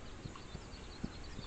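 Horse hooves clip-clopping in the video game This Land Is My Land, a few soft, evenly spaced hoof thuds, faint and low against quiet game ambience.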